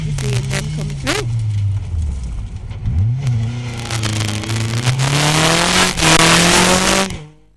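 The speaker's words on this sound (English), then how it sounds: "That was car 49 going round post 5." A rally car on a forest stage at the Nicky Grist Stages roars past a marshal post, engine revving hard through gear changes with crackles and tyre scrabble, loud and close before fading away, with a voice speaking over it.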